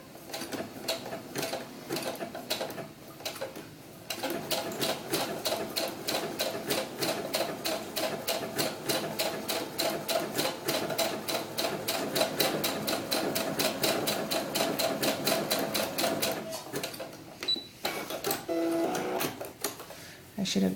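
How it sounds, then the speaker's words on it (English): An overlocker sewing machine stitches side seams of fabric in a fast, even mechanical chatter that runs steadily for most of the span, close and clear. "I'm just going to overlock those two side seams."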